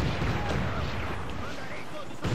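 Heavy ship cannon fire in a naval battle in Assassin's Creed 4 Black Flag, a dense rumbling barrage of booms that carries on throughout with voices speaking over it.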